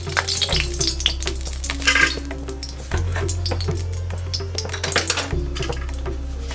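Cumin, cinnamon, cloves and cardamom sizzling in hot oil in a kadai, a steady close crackle and fizz with scattered sharp pops and a few spoon clinks against the pan.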